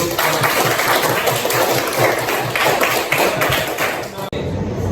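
A classroom group claps in a steady, rhythmic patter during a music lesson, loud and close, then cuts off abruptly near the end, with some voices mixed in.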